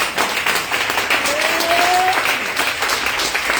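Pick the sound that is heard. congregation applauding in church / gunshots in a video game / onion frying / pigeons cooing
congregation applauding in church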